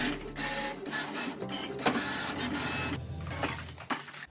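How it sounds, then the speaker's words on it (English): Cricut cutting machine slicing cardstock tote fronts, a steady whirring mechanical run with small carriage clicks and shifts, fairly close and alone. "I just set up the Cricut behind me so that we can cut out all of the little cardstock fronts for the totes"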